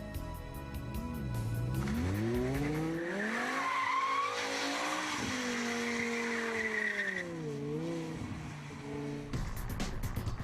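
A Wiesmann MF-5 sports car with a BMW M5 V10 engine revs and accelerates hard, the engine note rising and falling through several gear pulls with a squeal of tires, loud and close.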